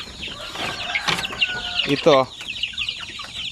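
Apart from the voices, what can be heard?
chickens clucking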